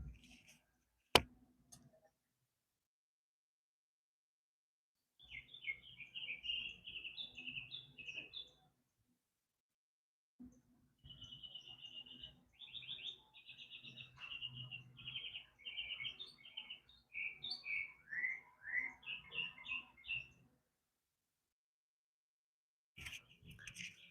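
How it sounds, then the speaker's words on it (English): A bird chirping outdoors in Florida gives bursts of quick, high twittering notes, separated by silent gaps, clear but fairly soft, with a few faint clicks. "You hear that bird?"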